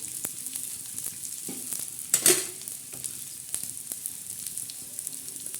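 Onion fries in a pan as a tadka for a Marathi soya chunk fry, a low, even sizzle with scattered spoon clicks and one louder scrape in the middle.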